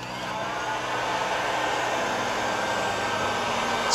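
A heat gun blows hot air onto a Porsche Boxster halogen headlight to soften its sealant, a steady, fairly loud rushing hum that holds unbroken throughout.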